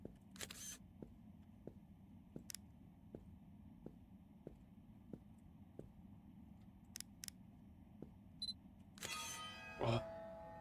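Camera shutter clicks in a horror video game, a few sharp isolated snaps over a quiet ticking background, faint and sparse, ending in a brief louder burst.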